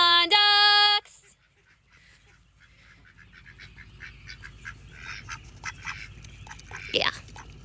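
Ducks quack faintly and irregularly in the background outdoors in the rain, after a short tonal electronic beep at the start, and the quacking grows somewhat louder toward the end.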